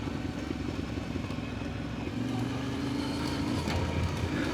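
Yamaha Ténéré 700 (2025) motorcycle decelerating on engine braking, a steady close engine drone with a low tone that shifts partway through, no voices.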